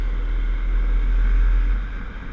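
Steady road-traffic roar heard from a scooter riding along Bei Yi Highway in Taipei, with a constant low engine and wind rumble that swells slightly midway and eases toward the end, with no talking.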